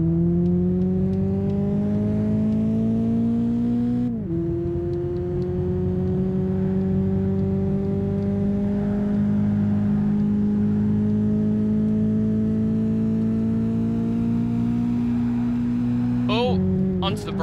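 A Toyota Supra in Gran Turismo 5 holds a loud, steady engine drone as it speeds around a spiral corner, and its pitch climbs and dips with gear changes. A voice talks over it throughout.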